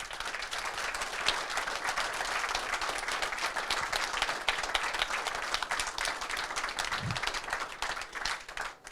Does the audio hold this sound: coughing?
no